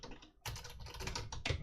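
Typing on a computer keyboard while coding a calculator program, a quick irregular run of close, crisp key clicks after a brief pause.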